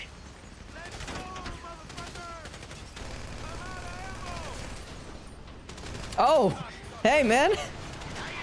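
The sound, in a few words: gunfire in a video game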